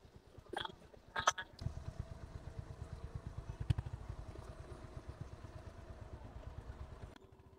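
A motorcycle on the Kona Expressway road out of Kolkata toward Digha chugs with an even, rapid engine pulse heard from the rider's position, fairly quiet, after a couple of brief clattering knocks at the start.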